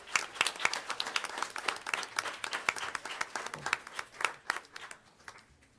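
Round of applause at a school district board meeting, many individual claps forming a lively, uneven patter that thins out and fades toward the end.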